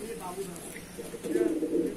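A Madrasi pigeon in a loft cage gives low throaty coos, a soft warble early and a louder rolling coo building toward the end.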